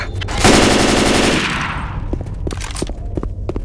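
Automatic weapon fire in the zombie shooter Left 4 Dead 2: a dense, loud burst of rapid shots for about a second, then scattered single shots and clatter continuing under the game's noise.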